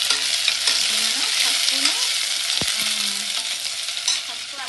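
Turmeric and ginger paste fries in a pan while a utensil stirs it steadily, giving a continuous close sizzle with scraping strokes and one sharp knock partway through.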